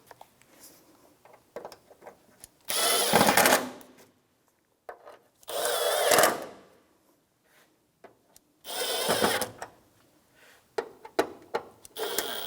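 Ratcheting wrench tightening the top bolts on an AC condenser of a 1992-1996 Ford F-150, heard as several bursts of rapid metallic clicking separated by pauses, close and fairly loud, with quieter handling noises between.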